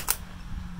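A paintball marker fires a single GI Ultra paintball over a chronograph, one sharp close pop followed by low room rumble.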